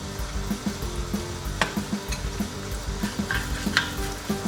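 Hing and curry leaves with mustard seeds sizzle in hot oil, a close, steady fry hiss broken by small pops and stirring clicks, with no talking.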